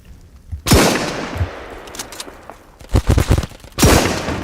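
Rifle fire from a sniper and an AK-style weapon in a shooter video game cracks out in sharp, loud shots. A single report comes first, then a quick burst of several rounds and a final shot. No talk is heard.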